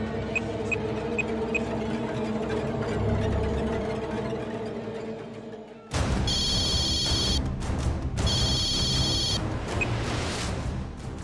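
A telephone rings in a Tamil TV serial scene, a bright repeating electronic ring in two long bursts that cut in over a steady background drone, with no talk.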